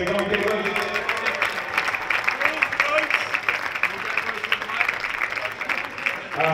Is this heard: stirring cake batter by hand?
no